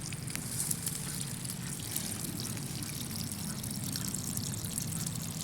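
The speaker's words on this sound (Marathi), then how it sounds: "पाणी बघा किती खळ खळ खळखळ असं वाहत आहे" Steady rushing, gurgling water flows continuously throughout, a broad constant wash of sound with no voices.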